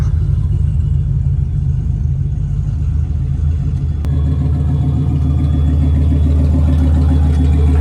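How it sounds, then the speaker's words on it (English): Two turbocharged Ford Foxbody Mustangs idle while warming up, giving a loud, steady low rumble that deepens and thickens about halfway through as a second engine note joins. No voices are heard. "Got both cars warming up."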